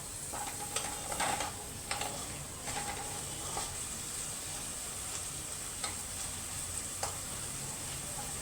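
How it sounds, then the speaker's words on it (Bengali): Chopped onions sautéing in a pan for pav bhaji, a continuous close sizzle broken by repeated scraping and clinking stirs, with no voices. "পেঁয়াজটা মোটামুটি সটে হয়ে গেছে"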